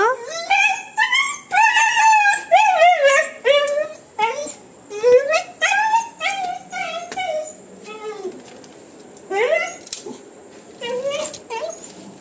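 A small dog whimpers and yips in a long run of high, rising and falling cries, close and fairly loud, broken by short pauses.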